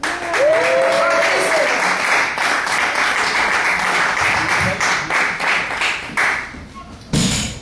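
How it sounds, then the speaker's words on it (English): A comedy club audience applauds a comedian after his introduction, a loud, dense wall of clapping with whoops and cheers that holds for several seconds. It thins out near the end as a voice comes in. "That was a real raucous applause."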